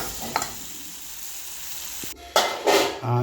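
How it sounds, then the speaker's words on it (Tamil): Chicken chukka, mixed with salt and tamarind, sizzles steadily in a pan while a spoon scrapes and turns it in a few close, quick strokes near the end. "சிக்கன் நல்லா உப்பு புளி சேர்ந்துடும் அதுக்காக கொஞ்சம் நான் பிரட்டி விடுவேன்"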